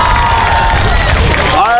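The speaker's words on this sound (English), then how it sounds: "Give Goro a round of applause." An audience at a cosplay contest cheers and claps, a brief, loud and continuous wash of applause with excited shouts and whistles rising near the end.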